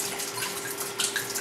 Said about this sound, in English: So just fill it full of hot water, give it a good shake.